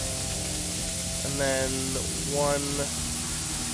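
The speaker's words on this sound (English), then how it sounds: "so the sound of that steam is really loud" In the game Shadows Over Loathing, a loud, constant hiss of steam fills the scene, a steady broadband rush that continues under someone talking.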